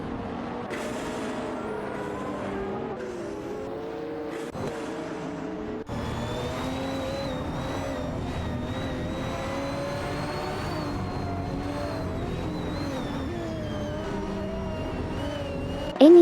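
Race cars in an AI racing video game, including a Ferrari FXX, a Pagani and a Noble M50, roar past with steady engine tones that rise and fall in pitch, loud and continuous throughout, with no talking.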